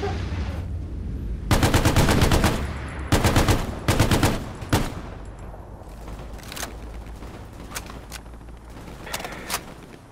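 Machine gun fire in the World War II shooter Hell Let Loose, with loud rapid bursts close by, then scattered single shots and distant gunfire through the rest.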